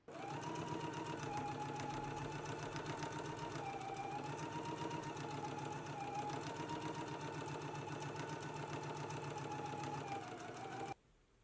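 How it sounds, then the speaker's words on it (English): Sewing machine running continuously as it top stitches along a basting stitch, a steady fast mechanical whir and rattle with slight speed wavers, close and alone, stopping abruptly at the end. "let's go to the sewing machine"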